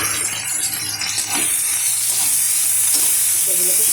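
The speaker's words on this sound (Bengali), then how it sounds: "সেগুলোকে সব আমি একসঙ্গে কষাবো" Prawns with onion, green chilli, and ginger and garlic paste frying in a wok, a loud continuous sizzle with intermittent scraping stirs, close up and without talk.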